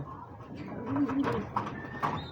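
Pigeons coo softly, a few low, rolling calls heard faintly at a moderate distance over a quiet background.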